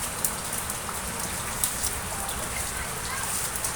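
Sudden heavy rain pours in front of a house gate during flooding, a dense, loud, unbroken hiss with scattered sharper drops spattering close by.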